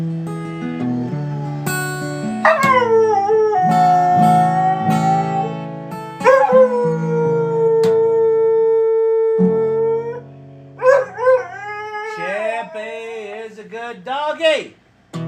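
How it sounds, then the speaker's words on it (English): A singing dog howls and yips in long, rising and wavering tones across several bursts, loud and close, with a few quieter gaps between phrases. "That's a good singing dog."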